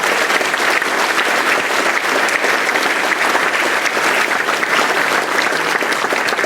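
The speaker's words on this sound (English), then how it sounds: "a round of applause to Megan for all our hard work" An audience at a UFO conference applauds, a loud, sustained, even wash of many people clapping at once, continuing without a break from start to finish.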